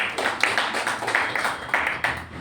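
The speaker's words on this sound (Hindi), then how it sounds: "एक बार जोरदार तालियां उनके लिए" An audience at a health awareness talk gives a round of applause, with steady overlapping clapping that swells in small repeated waves throughout.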